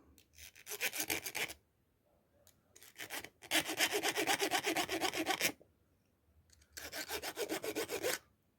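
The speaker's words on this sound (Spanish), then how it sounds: "Estoy limando donde ya marqué ya. Estoy haciendo el espacio ahora para el hilo." A hand file rasps a groove into a handmade crochet hook in three rhythmic bursts of quick back-and-forth strokes, close and gritty, with brief quiet gaps between them and no voices.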